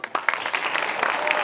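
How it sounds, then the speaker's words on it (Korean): An audience at an evening worship gathering breaks into applause, sharp individual claps at first quickly building into dense, lively clapping from a crowd close by. "저 친구를 위해서 박수 한번 쳐주세요."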